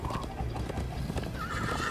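Horse hooves gallop in a steady clip-clop rhythm with occasional neighing, set in the video game Minecraft Story Mode, loud and close over faint background game sounds.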